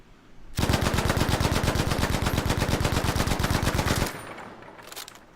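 Sustained automatic weapon fire on a shooting range in Battlefield V, a loud continuous burst of rapid, evenly spaced shots lasting several seconds before cutting off, with a faint trailing tail afterward.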